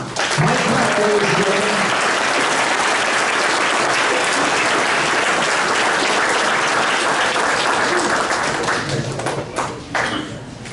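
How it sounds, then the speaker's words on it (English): Sustained audience applause fills a hall of fame induction ceremony, loud and dense throughout, with scattered voices under it before the clapping thins out near the end. "Mike Kraft, how about another round of applause for him?"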